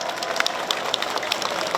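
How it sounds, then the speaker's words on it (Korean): Audience at the Gimhae Hanwoo beef festival applauding, a steady wash of clapping with a few sharper individual claps standing out, moderately near and without speech. "김해 시민 여러분 박수 한 번만 부탁드리겠습니다"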